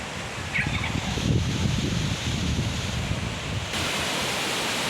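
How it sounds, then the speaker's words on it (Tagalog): A waterfall rushes in a broad, steady wash of white noise, heard from a moderate distance with some wind buffeting the microphone and no talk. "Napakaganda galisan waterfalls didi."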